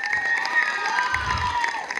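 Audience at a 2018 Tamil film audio launch event cheers and claps, with crowd noise that holds steady and fairly loud over the whole span. Scattered shouts rise above it, and a burst of clapping and cheering swells near the middle.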